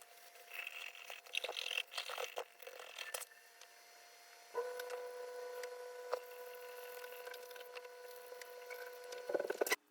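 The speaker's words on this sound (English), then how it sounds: "I use some isopropyl alcohol and Q-tip to start cleaning up." Isopropyl alcohol on a Q-tip scrubs a Game Boy circuit board, a faint close-up patter of soft scratchy rubbing strokes with light clicks and a steady faint hum underneath.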